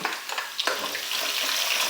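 Garlic and green chillies sizzle and fry in hot oil for tomato rice, with a few stirring scrapes near the start before the hiss settles into a steady, close crackle.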